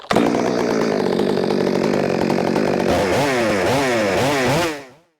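A chainsaw runs loud and close at high, steady revs, then bogs and wavers as it bites into material before cutting off abruptly.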